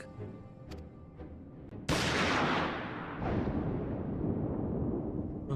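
A gunshot in Final Fantasy XIV: a sudden loud, broadband blast that cuts in partway through over a quieter game scene, followed by a second burst and a long rumbling decay.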